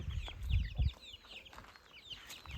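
Chickens cluck in a village garden, with several short calls scattered across the clip and low rumbling handling noise at the start, no talk.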